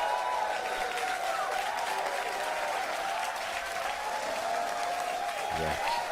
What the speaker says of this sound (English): Oh, they're all cheering.